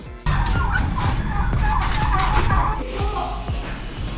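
Flock of farmed turkeys gobbling loudly and continuously, overlapping calls from many birds close by with bursts of rapid rattling gobbles throughout.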